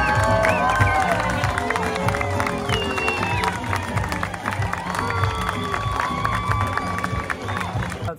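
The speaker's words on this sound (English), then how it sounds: "everybody's clapping for them as they're walking through up to the church" Carnival crowd clapping and cheering as people walk up to a church in Puerto Vallarta, a dense, steady wash of applause, shouts and whistles with voices mixed in throughout.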